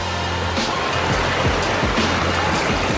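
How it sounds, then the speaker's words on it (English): Water tumbling down a small waterfall in a formal recreation pond with a wetland filter, a steady broadband rush that fills the whole clip with no talk. "a really cool waterfall coming down in here"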